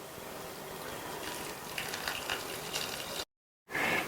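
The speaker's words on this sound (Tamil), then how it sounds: "அந்த பருப்பு வேக வச்சதுல இருந்து தண்ணியை மட்டும் இதுல சேர்த்துக்கலாம்." Lentil cooking water is poured into nellikkai rasam in a steady, soft splashing gush. The pour breaks off into a moment of silence, then resumes briefly.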